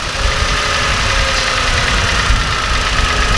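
A car engine idles steadily at close range during a fuel pressure test, with a constant low rumble and faint mechanical ticking that holds evenly throughout, no voices.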